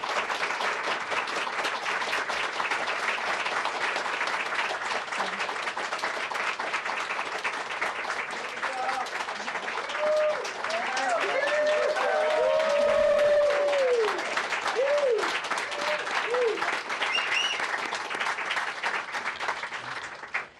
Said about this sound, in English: You have the largest round of applause I've ever heard in this room